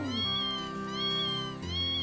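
A cat meows in the video game Trails of Cold Steel 2, a clear, close, drawn-out mewing call with no talk over it.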